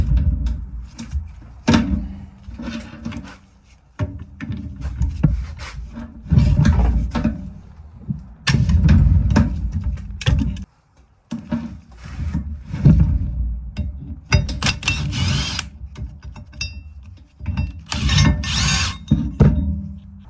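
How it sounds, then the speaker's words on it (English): Hand tools work on the mount bracket of a Toyota A131L automatic transmission, with close metallic clanks, knocks and ratcheting scrapes in irregular bursts and short pauses. No one speaks. "Now we'll just remove our mount bracket to get it out of the way."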